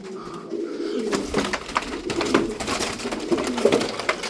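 Tumbler pigeons coo in soft repeated phrases close by, a low throaty murmur rising and falling over several seconds, with small flutters and rustles between the calls.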